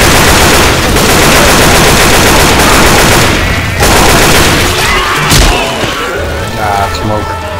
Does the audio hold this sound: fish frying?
no